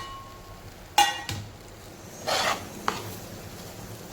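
A spoon scrapes and knocks against a pan while stirring a thick puran mixture of cooked lentils and jaggery seasoned with cardamom powder and grated nutmeg, a few sharp clinks and rasping strokes over a quiet background.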